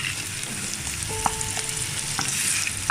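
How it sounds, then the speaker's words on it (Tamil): Onions sauté in a clay pot while being prepared for a dried anchovy thokku, with a continuous soft sizzle and scraping stirs. A brief tonal ring and a few clicks sound close by, and no one speaks. "அப்போ தான் வெங்காயம் நமக்கு சீக்கிரமாக வதங்கிடும்."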